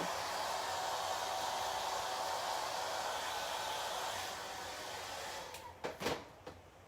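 Hair dryer on its cold setting blowing over wet chalk paste on a craft stencil, a steady loud airy roar lasting about five seconds, easing slightly before it cuts off amid a few handling knocks.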